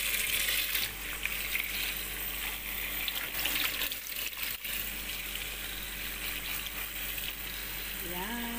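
Water runs steadily from a kitchen tap onto peeled potatoes to soak them for baked chicken, a constant close hiss and splash with no speech.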